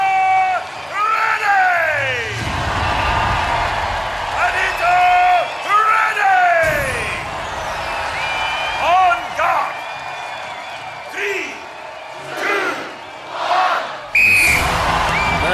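A wrestling arena crowd whistles and cheers in bursts of rising and falling whistles and shouts, with loud commentator-style talk over it.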